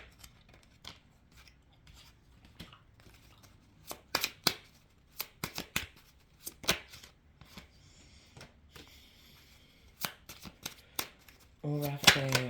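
Tarot cards are shuffled by hand for a reading: repeated crisp riffles and flicks, close and fairly soft, with a French-speaking voice talking in between.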